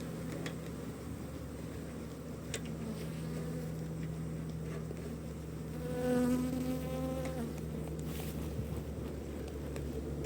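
A dense, steady buzz of many honeybees swarming around an opened hive during a colony merge, close and continuous with a brief louder swell midway, no talking.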